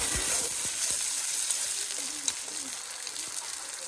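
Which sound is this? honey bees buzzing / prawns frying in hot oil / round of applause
prawns frying in hot oil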